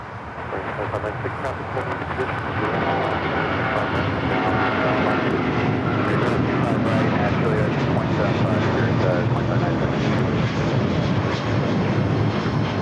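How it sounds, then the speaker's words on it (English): An American Airlines Boeing 777-200ER takes off at LAX toward low clouds, a loud, sustained broadband engine roar that holds steady throughout, with a voice talking over it. "This is American Airlines 1972 taking off to Dallas Fort Worth on the 777-200ER."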